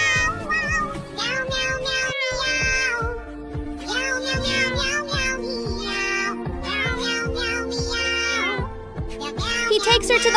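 A cat meows several times over a bouncy musical backing, the cries fairly clear and mid-loud against the steady beat.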